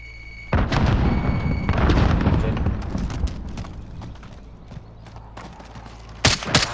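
A frag grenade explodes in Call of Duty: Warzone with a loud, close, rumbling boom that decays into scattered gunfire and battlefield noise, and a sharp burst sounds near the end.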